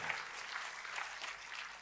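A church congregation claps together in a dense, steady burst of applause, moderately loud and continuous through the short stretch, with no one speaking.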